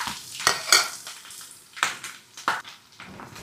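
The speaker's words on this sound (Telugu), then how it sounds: "ఉల్లిపాయలు, పచ్చిమిర్చి, ఉల్లిపాయ అంతా దూరగా అయ్యేంత వరకు వేయించుకుందాం" Onions and green chilies fry in hot oil in a pan, with a soft sizzle broken by several sharp bursts of stirring and scraping, close and moderately loud.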